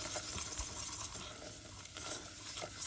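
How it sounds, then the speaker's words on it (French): Butter and flour being whisked together in a saucepan over low heat to make a roux; quiet, continuous scraping and stirring with a faint sizzle underneath. "Puis ajouter 40 g de farine, bien délayer le tout"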